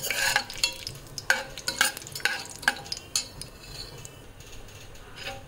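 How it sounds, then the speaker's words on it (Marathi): Peanuts and curry leaves fry in a pan for khandeshi masala khichadi, with a spoon stirring and scraping the metal in irregular clinks over a steady background sizzle. "कढीपत्ता टाकलेला आहे, शेंगदाणे, छान खरपूस होऊ द्यायचे"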